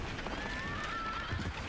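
A horse whinnies in the Parasite Eve video game, a single drawn-out neigh with a wavering, rising and falling pitch, heard up close over a busy background of game sound.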